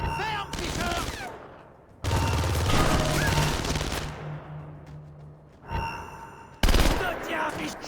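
Gunfire in the video game Splinter Cell Conviction, bursts of rapid automatic shots separated by short lulls, loud and close, with voices shouting in between.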